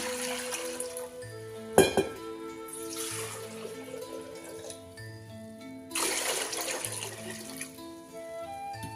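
About one and a half litres of water pours from a kitchen tap into a cooking pot for pasta in a steady, close rush. The flow swells in two strong surges and then settles.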